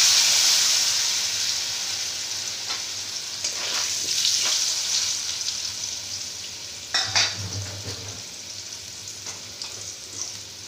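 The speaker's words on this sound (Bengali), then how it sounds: "এবার আমি ওই তেলের মধ্যে এই লম্বা লম্বা করে কেটে রাখা আলুগুলো ভেজে নেব।" Long-cut potato strips fry in hot oil with a steady, loud sizzle, and a few clattering stirs cut in near the end; no one speaks.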